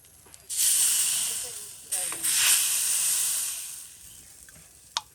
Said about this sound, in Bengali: জল গরম হয়েছে